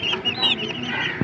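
Aseel hen clucking close by in a small mini-zoo enclosure, a run of short, soft clucks and chirpy calls over about a second, alone with no talk.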